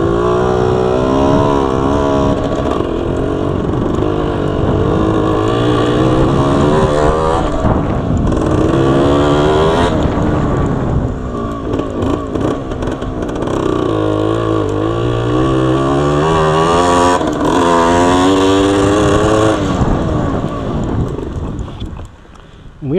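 A Yamaha 80 Enduro dirt bike rides through grass, its small engine droning loud and close with rising and falling revs, mixed with wind buffeting the microphone.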